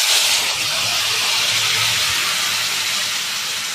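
Mustard paste mixed with chilli, turmeric and cumin water goes into a hot pan, a loud, steady, dense sizzling hiss that runs unbroken throughout.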